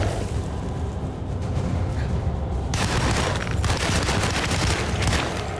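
Gunfire in the Alone in the Dark video game: a dense, continuous barrage of shots and crackling blasts, loud and sustained throughout, growing harsher and brighter partway through.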